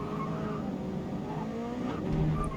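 Race car in a video game lapping the Nurburgring, engine droning steadily with tire squeal and skidding tones rising near the end, loud and continuous with no talk.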